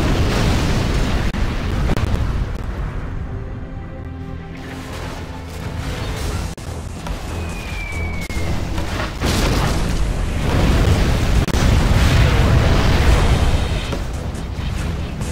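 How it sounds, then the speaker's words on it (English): A fuel air bomb detonates in the C&C Generals Zero Hour strategy game, a sustained loud, rumbling explosion with dense low booms and crackling debris that rolls on for the whole stretch, swelling again toward the end, with no talking. "Right, dropping off the fuel air bomb."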